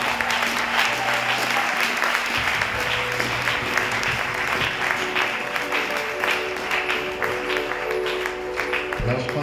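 Church congregation applauding and cheering loudly for the Lord at an inaugural seminar, with dense, sustained clapping and shouts filling the whole span.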